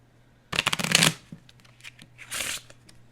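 Playing cards riffle-shuffled close by, a dense fluttering burst followed by a few soft taps and a second shorter riffle.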